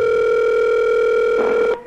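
A continuous telephone dial tone hums loud and steady, then cuts off with a short click near the end.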